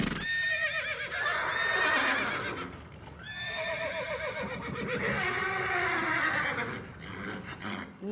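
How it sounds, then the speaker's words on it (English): A horse neighing loudly and close by in two long, shaky whinnies, each rising and then trailing off, with faint hoof clops beneath and no talking. "I've had it with this horse."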